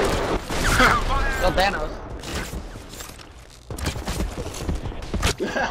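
Gunfire in a video game: scattered shots and bursts at mid distance, mixed with thuds and mechanical noise, mostly under overlapping excited voices of players talking.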